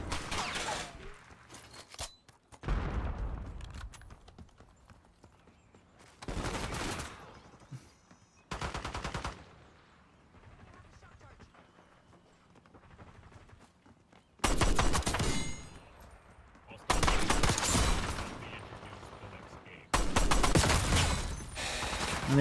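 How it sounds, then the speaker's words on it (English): Gunfire from the video game Call of Duty, including shotgun blasts, comes in several loud sustained bursts separated by quieter stretches of game sound. "And there's that shotgun."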